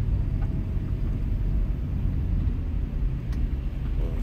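Steady low rumble of a car cabin while driving, a continuous road and engine drone with no distinct events, moderately loud and even throughout.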